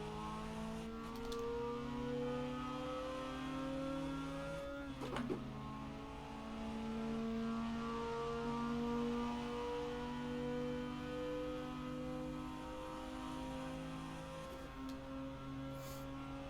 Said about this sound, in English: I was letting off on purpose, now I'm full throttling it.